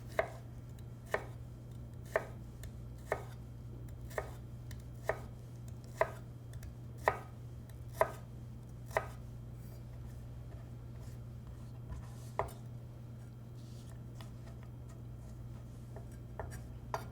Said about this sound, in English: gather a few of the julienne sticks, line them up together against the ruler, and cut at the 1/8 inch mark to create cubes